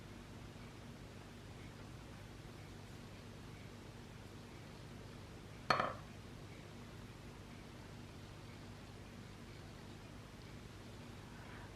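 A single sharp tap of a Tunisian crochet hook against a table rings out once midway, standing alone over a steady background hiss with no talk.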